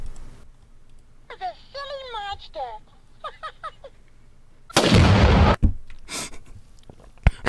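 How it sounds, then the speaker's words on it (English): A loud, dense explosion from Elma blowing up in a video game bursts in about two-thirds through and lasts under a second, after a stretch of animated voices, and is followed by a few sharp pops. "Elma explodes."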